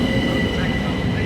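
A Class 172 train moves through Haywards Heath station, giving a steady rumbling roar with a faint high whine, heard fairly close and continuous throughout.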